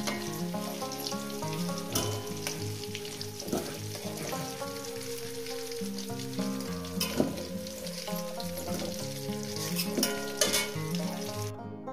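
Radish pieces frying in hot oil for a chicken curry give a steady, close crackling sizzle across the whole stretch, with a few sharper pops and a sustained tonal hum running underneath.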